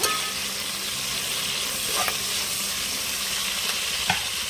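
Coriander and green chillies fry in hot oil for a chicken curry, a steady dense sizzle with a few faint scrapes of stirring, close and continuous, with no voices.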